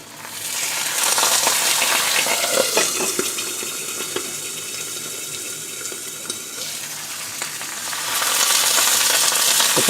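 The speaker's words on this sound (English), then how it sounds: "Put a tablespoon of water in there just to moisten the eggs." Eggs frying in a pan after a spoonful of water goes in, giving a loud, steady hiss and sizzle with wet bubbling that dips a little in the middle and swells again toward the end.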